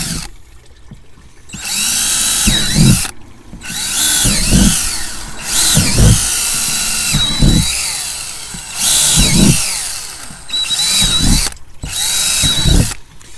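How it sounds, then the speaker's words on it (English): A power drill screams in repeated bursts, each burst separated by brief pauses as it bores holes through a plastic tote, loud and close. "So I just have a drill bit right here. I'm gonna do just random holes everywhere."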